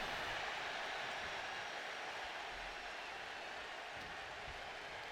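Steady roar of an arena crowd cheering behind Rey Mysterio in WWE 2K26, a dense, continuous wash of noise at moderate level with no clear breaks.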